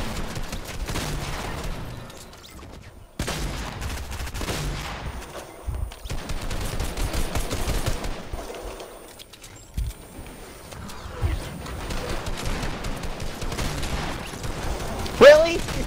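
Shotgun gunfire from the Fortnite video game rings out in repeated bursts amid constant game action and other weapon noise, with voices talking over much of it.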